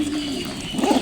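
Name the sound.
pigeons cooing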